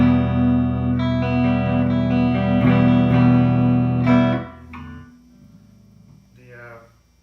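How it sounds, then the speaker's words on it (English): A restored vintage Gibson Flying V electric guitar played clean without pedals, distortion or a Marshall stack: sustained strummed chords ring for several seconds, then fade to quieter single notes near the end. "So this is what this guitar really sounds like."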